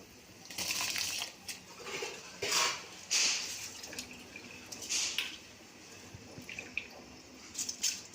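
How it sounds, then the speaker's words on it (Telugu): Raw rice is poured slowly into a pot of boiling water for colored rice, making soft hissing and rustling bursts over a faint bubbling background. "బియ్యం నెమ్మదిగా వేసుకోవాలి"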